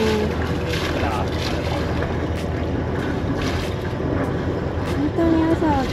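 A boat putting out to sea toward Ambon Island under a westward wind, its steady engine and water rush running continuously with wind buffeting the microphone and a few faint voices in the background.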